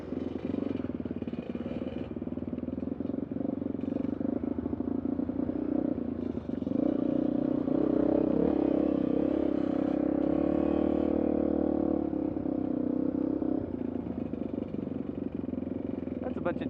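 Motorcycle engines drone steadily while dirt bikes ride off-road on the trails at Moab. The engine noise holds close and continuous under ongoing talk.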